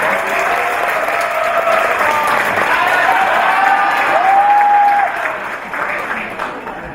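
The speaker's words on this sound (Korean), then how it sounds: "우리 친구 박수 쳐주시기 바랍니다." A church audience at a teacher-training session gives sustained, dense applause for a young participant for about five seconds before it tapers off, with some tonal voice or crowd sound mixed in.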